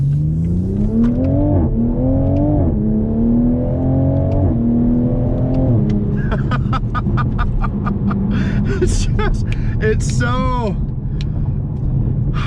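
A 2020 Toyota Supra engine revs up through several gears, heard from inside the cabin, followed by crackling pops and bangs from the exhaust as it lets off.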